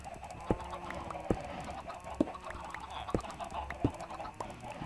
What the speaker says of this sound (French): Ils sont là les poules, les gars.